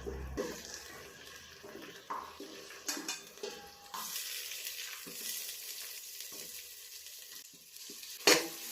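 Tomato and green chili fry in a pan for biryani, making a quiet, constant sizzle with occasional stirring scrapes and a light clink of utensil on metal near the end.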